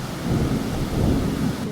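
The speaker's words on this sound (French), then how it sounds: "il pleut à torrent" Heavy rain pours down in a thunderstorm on the eve of the school year, a loud dense roar with rumbling thunder underneath.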